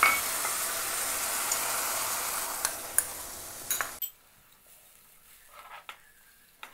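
Fish curry spice paste with kudampuli simmering in a pan gives a steady bubbling sizzle for about four seconds, with a few clinks of a utensil, then drops to near quiet with faint scattered taps.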